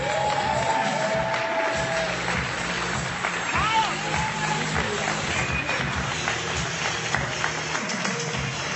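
An audience at a Tecademics affiliate program event applauds and cheers for a guest, a dense, steady wash of clapping that runs throughout with scattered crowd voices underneath.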